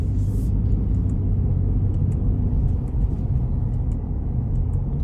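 A 2023 Ford F-150 XLT FX4 pickup engine pulling hard in first gear, a steady loud low rumble with no clear rise, heard from inside the cab.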